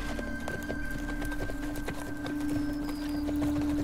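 Horses ridden by locals' guests, hooves clip-clopping in a steady walking rhythm, close and distinct over a constant background hum.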